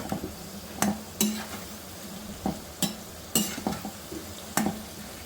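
Potatoes frying in ghee in a pan while being stirred, with a soft continuous sizzle broken by a run of sharp, irregular scrapes and knocks of a spatula against the pan, close up.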